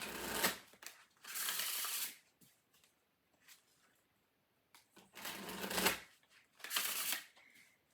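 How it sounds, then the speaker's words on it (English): A deck of tarot cards is shuffled in several quick riffling bursts, each a crisp flutter lasting about a second, separated by short quiet pauses. "Let me give this one a quick shuffle."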